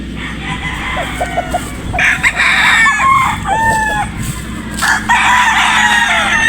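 Sweater Boston gamecock rooster crowing close by, several loud drawn-out crows and clucks over a busy outdoor background, with other fowl calling intermittently.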